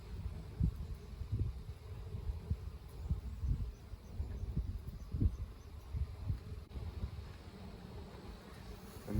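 Worker honeybees buzz steadily around open beehives during a calm hive inspection, a soft continuous drone with occasional louder passes of individual bees close by.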